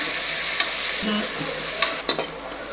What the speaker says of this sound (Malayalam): ഇനി നല്ല ഇളക്കണം അല്ലെങ്കിൽ അടിച്ച് പിടിച്ചോളും